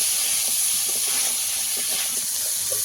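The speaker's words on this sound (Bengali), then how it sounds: "এই পর্যায়ে মটরশুঁটিটা দিয়ে দেব। দিয়ে আবারও ভালো করে ভেজে নেব।" Green peas frying in a pan for dal, a steady loud hiss of sizzling with faint crackles and pops underneath, close and continuous.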